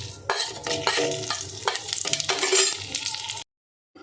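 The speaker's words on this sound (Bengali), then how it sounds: "তেল দিয়ে এই শুকনো লঙ্কা, তেজপাতা আর গোটা জিরেটা ফোড়নে দিয়ে দেবো।" Dried red chillies, bay leaves and whole cumin crackle and sizzle in hot oil with brisk stirring and scraping against the pan, then the sound cuts off abruptly near the end.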